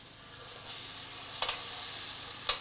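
Pulled pork frying in a hot pan, a steady soft sizzle throughout with a couple of brief stirring scrapes, close and fairly quiet, no talking.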